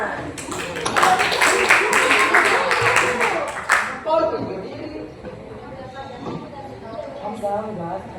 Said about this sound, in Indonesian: ada tepuk tangan nih